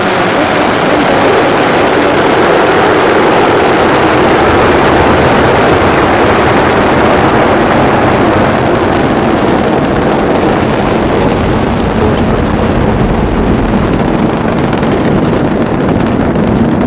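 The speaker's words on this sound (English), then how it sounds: "Ignition and liftoff of Columbia on the ignition engine." Space Shuttle Columbia's rocket engines ignite and lift off at launch, a sustained, overwhelming roar with deep rumble and wind-buffeted crackle that holds loud and steady throughout, slowly thinning at the top end near the close.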